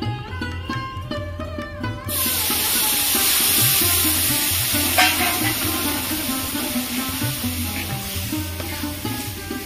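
Milk poured into a pan of deep-fried, reddish-browned vermicelli bursts into a loud, steady sizzle and hiss that follows a short stretch of quieter cooking sounds.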